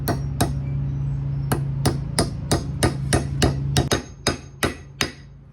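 Steady hammer blows drive a wooden wedge into an axe handle to seat a restored axe head, about a dozen sharp, evenly spaced strikes, close and loud over a low background hum.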